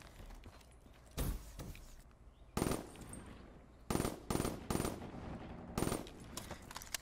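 MBA7 gun in a video game firing four-round bursts, several sharp clusters of rapid shots separated by short pauses, loud and close.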